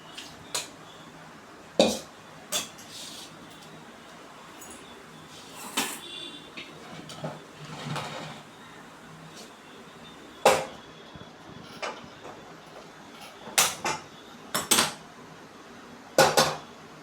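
A metal cooking pot set on a gas stove in a home kitchen while making sambar: scattered light clinks and knocks of metal, fairly quiet and spaced out, with no talking.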